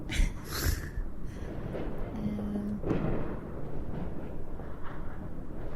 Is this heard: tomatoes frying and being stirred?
no